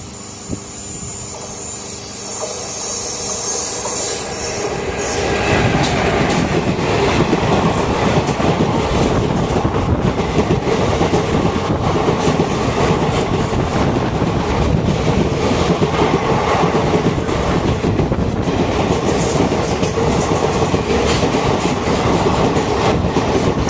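The Kochuveli–Mangalore Antyodaya Express, a coach built at Rail Coach Factory Kapurthala in October 2019, rumbles loudly from inside, growing to a steady roar after a quieter opening, with continuous wheel clatter and no voices.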